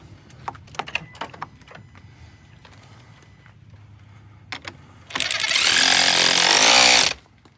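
A battery cable is reattached and tightened on a 2021-2024 Ford F150 pickup. Scattered close clicks and taps are followed by a loud, steady burst of ratcheting or power-tool whirring that lasts about two seconds before stopping abruptly.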